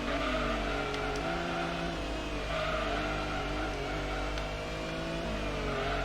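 A race car in Gran Turismo, the original classic, drives at steady high revs at full steering lock, its engine droning loud and unbroken with faint tire scrubbing.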